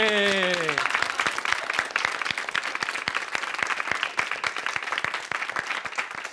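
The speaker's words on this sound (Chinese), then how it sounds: "掌声鼓励。" Studio audience at a Taiwanese variety talk show claps in crisp, rapid, fairly loud applause that follows a brief sung note at the start and continues evenly to the end.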